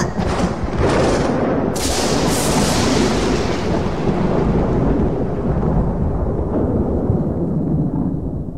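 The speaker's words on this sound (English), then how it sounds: "It's just thunder." A long, loud rumble of thunder in a Halloween-themed animated cartoon, with a sharp crack at the start. A dense, roaring roll follows and fades slightly over several seconds, with no voices.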